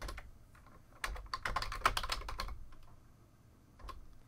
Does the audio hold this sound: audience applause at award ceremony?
no